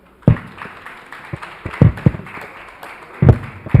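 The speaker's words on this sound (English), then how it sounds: "Please a round of applause to our moderator for today." A small audience at a business panel gives scattered applause, a few sharp, sparse claps that come in uneven bursts against a quiet room.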